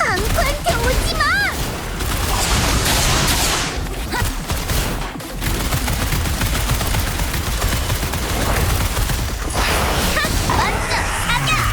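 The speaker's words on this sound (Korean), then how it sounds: "먼저 사격!" Gunfire and blasts from combat in the video game Wuthering Waves come as dense rapid shots and bursts, loud and continuous, mixed with game effects and character voices.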